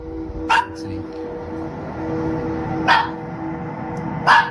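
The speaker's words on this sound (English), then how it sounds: "After seeing his dog panicking and constantly barking towards the door" Dog barking toward a door at night, three short sharp barks spaced a couple of seconds apart over a steady low hum.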